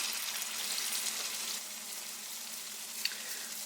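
A hot water cornbread patty fries in hot oil, giving a steady, even sizzle and crackle that holds at a moderate level throughout, with one small pop near the end and no talking.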